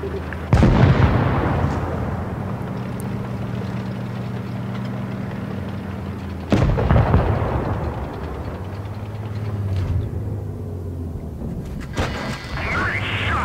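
Two loud, close cannon blasts from a Maus heavy tank in World of Tanks Blitz, each a sharp boom with a long decaying rumble, spaced several seconds apart over low engine hum, with brief voice in between.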